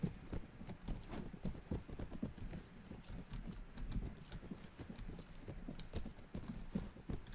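Horse hooves galloping in the Mount & Blade video game, a steady rapid clip-clop rhythm of hoofbeats running continuously and fairly loud, with no talking over it.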